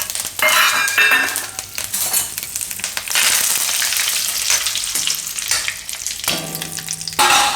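Cumin, red chillies, bay leaves, asafoetida and curry leaves crackle and sizzle in hot oil. The loud frying runs continuously, with utensil scrapes and stirring clatter throughout and no talk.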